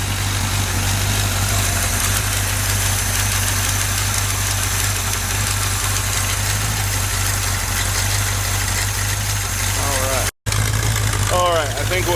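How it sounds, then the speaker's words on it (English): A 1966 Chevy truck engine idles steadily at 600 RPM with a low, knocking rumble, loud and close, broken by a brief dropout near the end as a voice talks over it. "Idling at 600 RPM."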